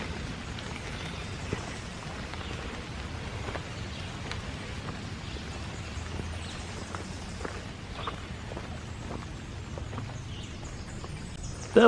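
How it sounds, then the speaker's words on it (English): Scattered drips of rainwater blown by wind off leaves, pattering onto leaves and ground all around during a morning hike in Iroquois Park, soft and irregular over a quiet outdoor hush. "I think that was just the wind blowing the water off the leaves."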